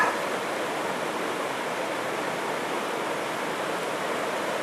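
Bracklinn Falls, a waterfall, makes a continuous broadband rush of falling water. It is steady and fairly soft, as if heard from a short distance, and no voices are present.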